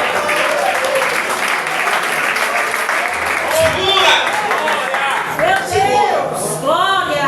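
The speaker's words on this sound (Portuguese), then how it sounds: "Aplauda, dê glória, aplauda para ele, por favor." A church congregation applauds steadily in a large hall while a preacher speaks in Portuguese over the clapping, which swells and continues throughout.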